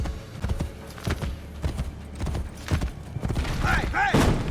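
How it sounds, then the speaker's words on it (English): A horse gallops in the Assassin's Creed video game, with rhythmic, thudding hoofbeats at a quick, steady pace. Other game sounds mix in and grow busier toward the end. "Ah, all of a sudden we can gallop."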